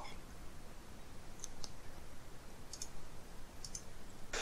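A computer mouse clicks while a new user is being created in the cPanel web hosting control panel, giving a few faint, sharp clicks spread out over a steady quiet hiss.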